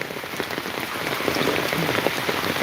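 Steady rain falling on a surface outdoors near a cattle farm and rice paddy in rural Bangladesh, a dense continuous patter of drops with no voices.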